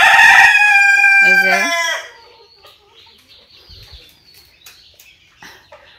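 Fayoumi hens and a rooster at a small backyard flock of about eighteen birds: a loud rooster crow with stepped falling tones opens, then fades into soft scattered clucks, with a brief voice speaking near the start.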